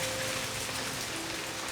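Heavy rain falls steadily during a hurricane on an island, a dense continuous hiss of drops hitting surfaces with no voices.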